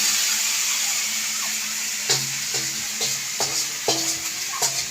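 Meat frying in a pan with a steady sizzle while a utensil stirs and scrapes it, making a series of distinct clinks and knocks against the pan, close and clear.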